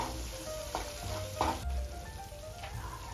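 Spices and yogurt sizzle and fry in a pan for paneer masala, with steady close crackling and several sharper stirring scrapes, no talk.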